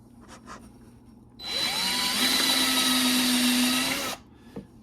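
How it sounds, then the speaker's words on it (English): A power drill bores a hole through a steel plate while a heat exchanger is fitted on a Yamaha Viper 700 snowmobile. It gives one continuous high whine of about three seconds, close up, with faint handling noise before and after. "I'm going to drill my bottom holes first"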